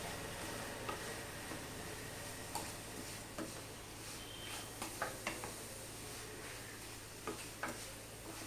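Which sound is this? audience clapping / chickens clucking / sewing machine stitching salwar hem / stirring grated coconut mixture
stirring grated coconut mixture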